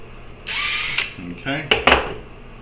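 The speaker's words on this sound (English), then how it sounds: "running that drill bit through" A power drill whirs for about half a second, close and bright, boring through a Ruger American rifle stock, followed by a few sharp mechanical clicks and knocks.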